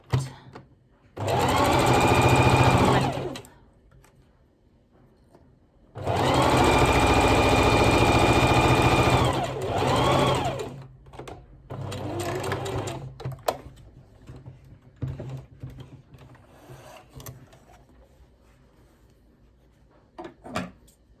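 Domestic sewing machine stitching dress sleeves into place on a Luna Lapin polka dot dress, running in two long loud bursts with a pause between, then shorter stop-start runs and faint handling noises, no talking.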